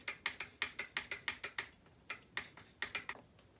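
Rapid ratcheting clicks as a kickstarter gear is fitted into a Honda ATC 200x engine bottom end, a close, crisp series of mechanical ticks in short bursts with a brief pause midway.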